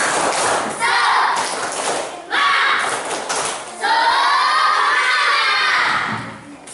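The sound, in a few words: schoolchildren doing a clapping chant, tepuk semangat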